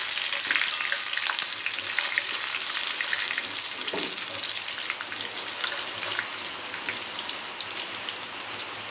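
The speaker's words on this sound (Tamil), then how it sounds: "எண்ணெயிலே கருவேப்பிலை வறுத்து எடுத்துக்கலாம்" Curry leaves frying in hot oil for a crispy poha mixture, a dense, continuous crackling sizzle heard up close and alone, with no voices.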